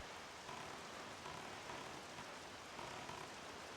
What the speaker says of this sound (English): And we got more rain.